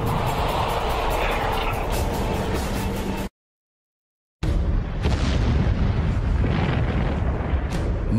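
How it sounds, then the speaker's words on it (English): Mount St. Helens erupting in a colossal volcanic explosion, releasing millions of tons of magma: a loud, sustained roaring blast that cuts to silence for about a second, then resumes as dense, rumbling thunder. "It releases millions of tons of magma in a colossal explosion."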